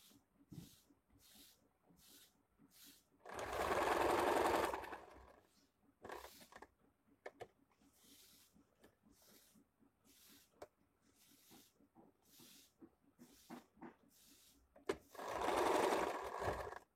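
A sewing machine stitches an A-line square-neck nighty in two loud whirring runs of a couple of seconds each, separated by quiet clicks and fabric handling.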